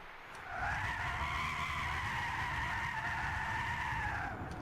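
A Tesla Model S drifts in Gran Turismo 6, its tires skidding in one long, steady, loud squeal over a constant engine and road rumble that holds for several seconds.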